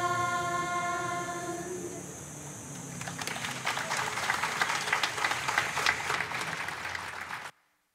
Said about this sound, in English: How about one more round of applause for that beautiful, beautiful song?